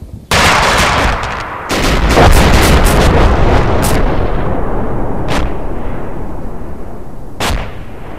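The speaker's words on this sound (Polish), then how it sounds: "Artyleria wali" Heavy artillery fire in a video game, loud continuous booming barrage with sharp distant cracks at intervals, no talking.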